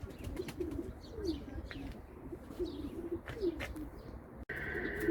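Pigeons coo in soft, repeated low calls that carry on through the whole stretch, with scattered chirps and light rustling nearby.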